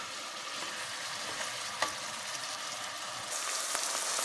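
Ground beef browns in a pan for chili, giving a soft, continuous sizzle and crackle with occasional stirring scrapes. The frying sits close but fairly quiet, with no talking.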